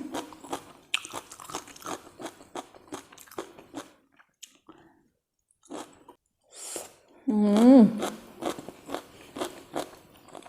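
Someone eats spicy mala skewers and stir-fried instant noodles with clams, making close, crisp crunching and chewing bites scattered among pauses, with someone speaking in between.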